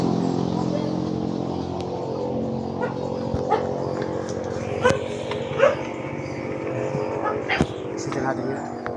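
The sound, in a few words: dogs barking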